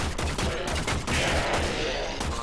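Rapid laser gunfire from a Warframe firefight crackles in dense, overlapping bursts, loud and continuous with brief gaps, like a sustained volley of energy weapons.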